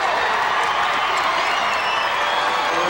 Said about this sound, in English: the crowd behind us from Barr-Reeve making all sorts of noise now